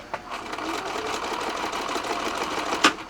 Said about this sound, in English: So I'm gonna gather the stitches